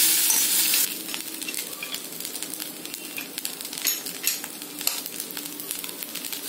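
Banana stem rice is stirred in a hot sizzling pan. Steady frying hiss runs under irregular scraping and light clinks of the spoon, close up with no talk.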